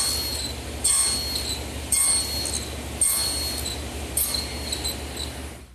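A table saw nibbles away material on wooden table rails, a steady loud whining drone swelling in four regular surges about a second apart as each pass is made.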